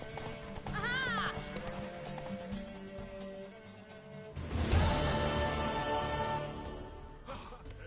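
Hooves clop in a quick galloping rhythm alongside a horse's whinny in The Witcher 3: Wild Hunt, with a surge of movement midway and game music underneath.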